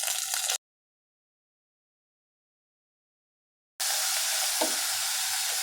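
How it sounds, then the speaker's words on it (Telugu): Fenugreek leaves fry in oil seasoned with curry leaves and tempering spices for a tomato chutney. A steady close hiss and crackle plays briefly, cuts to a long silence, then returns and holds. No one speaks. "ఒక నిమిషం బాగా ఫ్రై చేసుకోవాలి."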